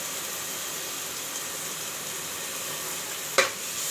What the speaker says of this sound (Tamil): நம்ம அரைச்சிட்டு வந்தோம்ல மிக்சியில், பச்சை மிளகாவும் வெங்காயம் அதையும் போட்டு வதக்கிக்கலாம்